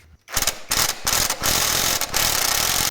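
A ratchet loosening the fan pulley bolts during a front timing belt job, a loud, close, rapid clicking in several bursts with brief pauses between strokes.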